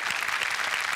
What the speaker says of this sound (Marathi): जोरदार टाळ्या सरांसाठी